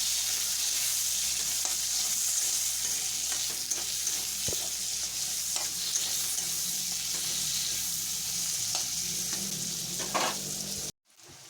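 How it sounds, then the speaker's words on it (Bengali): Onions frying in a pan for a crab do-pyaza, a continuous even sizzle with faint stirring, heard alone until it cuts off abruptly near the end. "পেঁয়াজটা দিয়ে দেবো পেঁয়াজটাকে আমি ভালো করে ভেজে নেবো"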